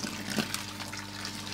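Hot, partly boiled kettle water pours onto potassium permanganate crystals for a koi pond treatment, a steady close splashing trickle that swells briefly near the start and then runs on evenly.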